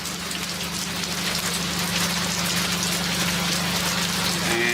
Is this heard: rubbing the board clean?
no